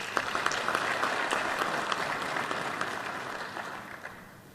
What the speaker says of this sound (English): And we must applaud you and applaud through you ourselves as a country.